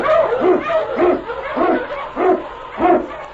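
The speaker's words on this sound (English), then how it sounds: "King, the swiftest, strongest of Eskimo lead dogs, blazes the trail through storm and snow" Eskimo husky sled dog barking in a quick series of about six yelping barks, close and loud, in a rhythmic run.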